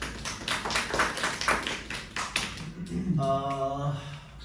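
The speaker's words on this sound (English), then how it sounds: "Clap for Hamad first of all." A small group claps in quick irregular bursts for a student who has just finished a speaking test, then a voice starts talking as the clapping fades.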